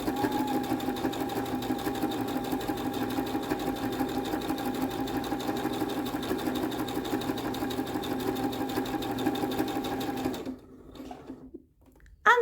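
A domestic sewing machine stitches fabric in one long, steady whirring run with a rhythmic needle clatter, close and even, then stops abruptly near the end with no talk.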